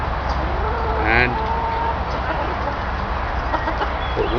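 A hen being treated for mites and lice gives a few soft clucks and squawks close by, over steady background noise while a person speaks.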